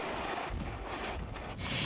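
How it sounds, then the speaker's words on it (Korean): Typhoon-force wind in Jeju roars in a constant loud rush, buffeting and rumbling against the microphone with gusting surges and no voices. "제주 시내에도 오늘 오후부터 초속 50m가 넘는 강한 바람이 불었습니다"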